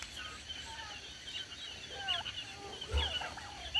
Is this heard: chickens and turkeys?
yes